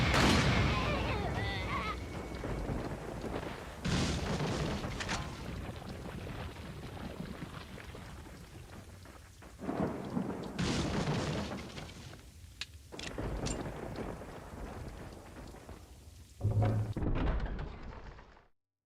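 Grenade blasts in Resident Evil 4, a few heavy booms spaced through the stretch amid game noise, each with a rumbling tail, under someone talking.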